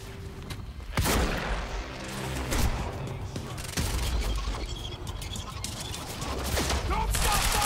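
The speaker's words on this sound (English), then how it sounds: "Don't stop firing." Bursts of in-game gunfire from a Quantum Break firefight, with sharp shots and rattling volleys spread across the stretch and loud impacts near the one- and four-second marks, mixed with game sound and some voice.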